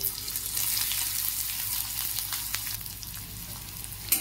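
Chopped onions with crushed garlic frying lightly in a pan for a mushroom dish, a steady close sizzle with a few stirring clicks, no talking.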